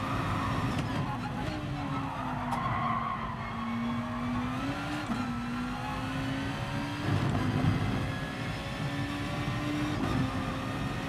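A Honda NSX race car in Gran Turismo Sport holds a continuous engine drone that rises and falls with shifts and corners, with tire noise mixed in throughout.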